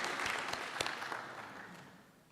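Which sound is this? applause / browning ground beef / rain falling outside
applause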